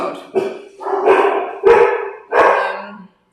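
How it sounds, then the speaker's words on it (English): A dog indoors near a door barks loudly four or five times in an uneven rhythm, each bark close and sharp, and the last one trails into a short whine. "Oh, my dog is going to open the door now."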